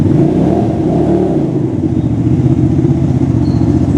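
A new motorcycle engine runs steadily nearby as a beginner rider works the manual gears, a loud continuous low rumble with a slight rise in revs partway through, no talk over it.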